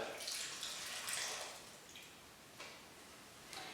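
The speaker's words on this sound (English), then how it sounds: "and the room temperature water." Room-temperature water pours into a well of flour for Italian piadina flatbread, a soft, faint, continuous trickle and splash that rises briefly, then eases off with small drips.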